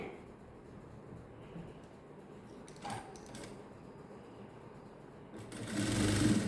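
A sewing machine stitches silk skirt fabric in a faint, steady whirring run, with a few brief clicks and a louder burst of running at the end.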